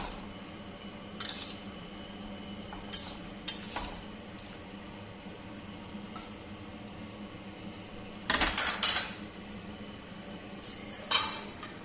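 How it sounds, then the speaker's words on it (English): Fried potatoes tipped into a prawn curry simmering in a pan, Bengali aloo potol chingri style: a steady low sizzle and bubbling with scattered scraping stirs, and one louder clattering burst of food and spoon near the end, close, with no talking. "Now into this I'm going to add my fried potatoes"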